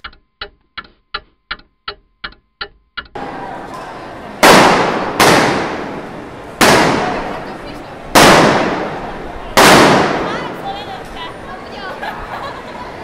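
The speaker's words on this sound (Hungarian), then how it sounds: "A színpadon lövések dörültek el" Gunshots fired on stage at a live event: a fast series of sharp cracks followed by five loud, evenly spaced booming shots over steady crowd noise, each ringing out with a long decay.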